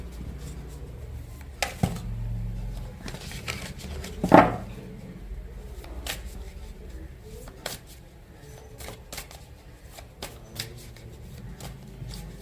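Tarot cards being shuffled by hand, a soft papery riffling with one sharper slap of the deck, fairly quiet and close, with no talking over it.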